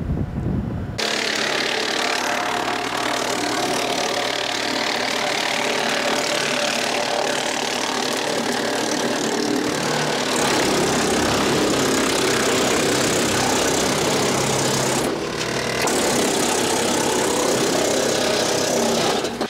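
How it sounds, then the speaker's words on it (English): Loud, continuous machine roar of a tractor-run wood chipper grinding tree tops, with the tractor engine running underneath, steady and close for the whole stretch. "show you a little bit more about this wood chipper and how this tractor runs"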